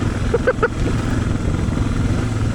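Dual sport motorcycle riding along a short dirt road toward a park, a loud steady engine drone with wind rumble throughout and a few brief tonal blips near the start.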